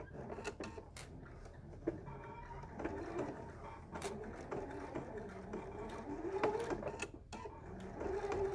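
A sewing machine stitching a fabric face mask, its needle running in a steady whirring rattle, close up, with brief pauses and slight changes in speed.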